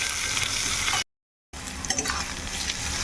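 Finely chopped onion sizzles steadily in hot oil with cumin and bay leaf, interrupted by a half-second gap of complete silence before the crackling frying and light stirring resume; no voices.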